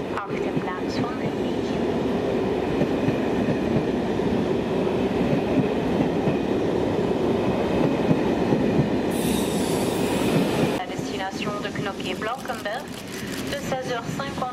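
An intercity train rolls into Brussels-South station with a steady heavy rumble and metallic clatter, wheels squealing faintly, then the noise shifts and eases as it slows near the platform.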